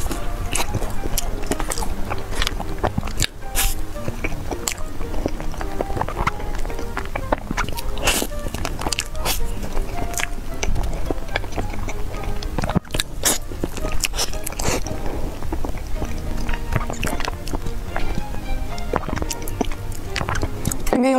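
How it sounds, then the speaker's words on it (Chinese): Mochi-style snow skin dessert filled with sesame and peach gum being eaten in a sweets mukbang, with dense close-up biting and wet chewing sounds running steadily throughout. "再来吃个雪媚娘，这个是芝麻桃胶的。"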